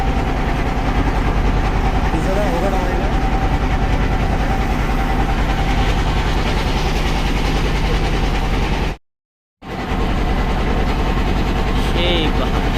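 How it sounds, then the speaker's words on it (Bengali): A speed boat engine on Kaptai Lake drones loud, close and continuous, with a brief total dropout near the end before the roar resumes. "স্পিড বোটও যায়"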